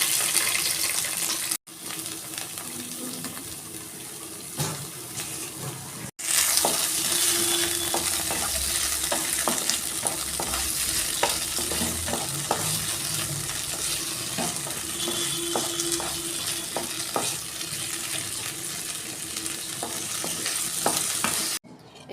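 Cashews and raisins fry in ghee in a kadai, a steady close sizzle with frequent stirring clicks and scrapes, briefly cut off twice early on, no talk.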